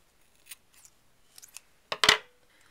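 Scissors snip through yarn string and a crochet hook's tail: a few faint light clicks, then two sharp, close cuts near the end.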